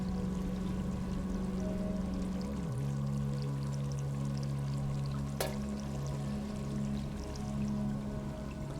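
Water pours steadily in the video game Stray, a continuous trickling stream at moderate distance with a small shift in pitch midway and one short click, alone without voices.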